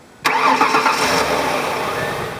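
A car engine with suspected bad engine or transmission mounts turns over and settles into a steady, loud idle that continues throughout.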